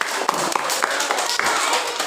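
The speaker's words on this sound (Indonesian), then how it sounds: "Berikan mereka tepuk tangan yang sangat meriah" Schoolchildren in a classroom applaud a group after its presentation, giving quick, light, uneven clapping that blends with children's voices and room chatter.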